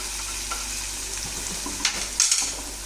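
Fish kalia curry with yogurt sizzling and frying in a pan while being stirred, a steady hiss broken by a few brief scraping clinks of the spoon near the end.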